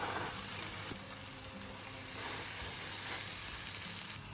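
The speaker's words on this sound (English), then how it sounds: "We'll toast our bread." Bread toasting in a pan for mushroom and avocado toast, a steady close sizzle and crackle of frying, with a few soft scrapes and no talking.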